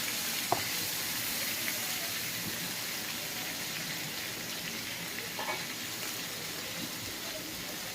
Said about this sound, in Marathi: मध्ये थोडंसं तेल टाकून आपल्याला ही वांगी परतून घ्यायचंय.